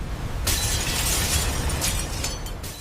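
Porthole glass on a sinking ship bursts under water pressure with a loud sudden shattering crash, followed by a sustained roaring rush of water, a few sharper crackling bursts, and then a slight easing toward the end.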